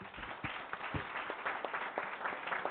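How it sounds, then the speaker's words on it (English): City council meeting audience applauding an award recipient, a fairly faint, thin patter of scattered claps from a modest room crowd. "Give him a round of applause."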